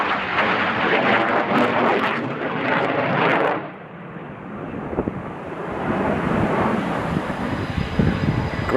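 Boeing EA-18G Growler military jets with engines running at an airbase, a loud continuous roar that dips briefly midway then resumes with wind buffeting, no voices.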